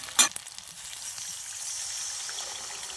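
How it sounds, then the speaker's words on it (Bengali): Water hits a pan of potatoes fried with spices for a vegetarian potato-paneer curry, giving a sharp, loud hiss at first that settles into a steady, quieter sizzle. "এবারে এর মধ্যে আমি কিছুটা জল দিয়ে দেবো।"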